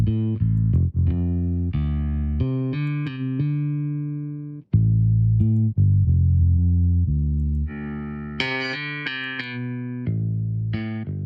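A sampled bass playing a melodic line through bass amp emulation plugin presets, giving a loud, sustained, saturated tone with distortion and a chorus-like sheen as the notes step up and down.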